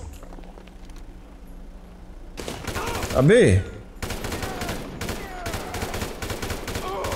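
Gunfire in the GTA Online video game: dense, rapid bursts of shots crackle almost continuously through the second half, loud and close, after a quieter start, with a voice briefly exclaiming over the shooting.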